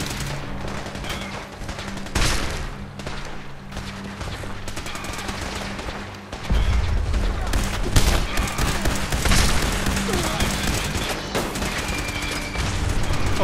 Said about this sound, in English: Shelling continues.